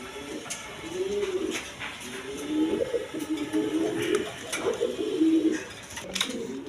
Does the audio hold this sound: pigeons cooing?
yes